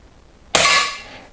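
A single sharp shot from a Weihrauch HW 100 S air rifle firing lead-free pellets: a crisp crack followed by a short ringing decay, close and loud.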